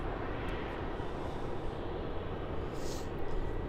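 A Qantas jet, flight QF94, taxiing at Melbourne Airport after vacating runway 27, heard as a steady, fairly distant engine roar with a continuous broadband rumble and no voices.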